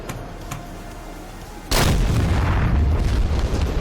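Bombs dropped from a Su-27/33 Flanker in a flight simulator game burst into a tree line, a sudden loud, deep blast that turns into a sustained rumbling roar after a quieter stretch of ambient noise.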